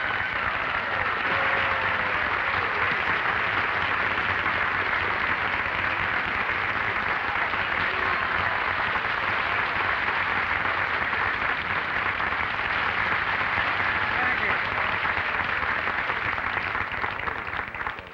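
A large audience applauds steadily for a surprise celebrity walk-on at a star-studded show, a dense, continuous wash of clapping that holds evenly before tapering at the end.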